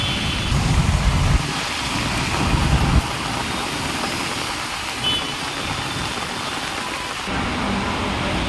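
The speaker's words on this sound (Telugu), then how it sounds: "హైదరాబాద్ చుట్టుపక్కల ప్రాంతాల్లో మోస్తారు వర్షం పడుతోంది." Moderate rain falling around Hyderabad, a steady broadband wash of rain noise with a few low rumbling thumps early on, continuous and fairly loud.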